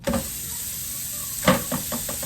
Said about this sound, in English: So listen for that sizzle.